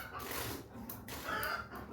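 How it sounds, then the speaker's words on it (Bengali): Chickens clucking and squawking loudly at a home, agitated calls rising over a busy low background, fairly faint overall. "আর মুরগিগুলো প্রচন্ড পরিমাণে চেঁচাচ্ছে"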